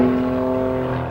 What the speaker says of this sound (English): Tech Giles G202 aerobatic aircraft